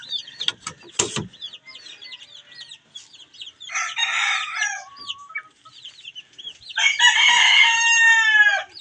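Hens cluck in quick, ratcheting bursts with a couple of sharp knocks early on, then longer loud squawking calls near the end, close and without talk, at a newly built chicken coop.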